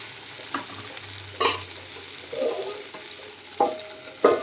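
Dosa batter hisses on a hot pan, a steady close sizzle with a few sharp scraping taps of a spatula breaking through.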